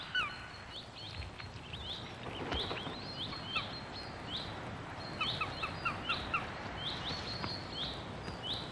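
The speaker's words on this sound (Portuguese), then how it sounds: "seu companheiro a chama para o posto de depenar para pegar comida" A male falcon calls out repeatedly to the female near the plucking post, giving a series of sharp, high chirping notes at moderate distance over a low outdoor background.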